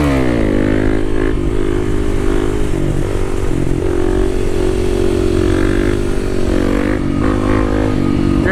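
A dirt bike ridden on a trail in third gear, its engine a close, loud buzzing drone that rises and settles with throttle changes, with light clatter from the terrain and no talk.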